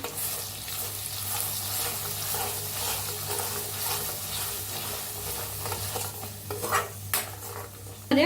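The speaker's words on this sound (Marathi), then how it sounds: "आता आपण मसाला बनवून घेतलेला पेस्ट घालूया" Ground masala paste tipped into about a tablespoon of hot oil in a pan for kat vada: a steady close sizzle and fry hiss with light stirring scrapes, growing busier near the end, no talk.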